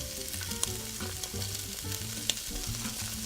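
Chunks of pancetta fry in a pan, a steady close crackle and sizzle with a couple of sharp pops, no talking.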